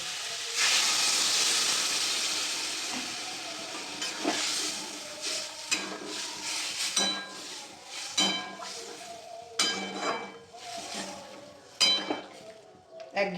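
Water poured into a hot pan of egg curry, with a loud burst of steaming hiss that settles into bubbling sizzle, followed by stirring clinks of a utensil against the pan, close by.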